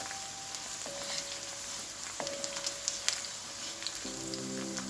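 Onions fry in hot oil in a pan for a potato rice dish, giving a steady soft sizzle and crackle with faint pops, low in level and continuous throughout.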